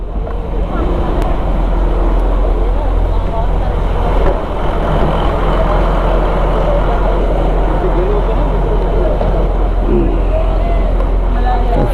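A steady, loud low ferry boat engine drone runs throughout, with broadband rumble and faint voices mixed in the background, on the Borivali to Gorai crossing.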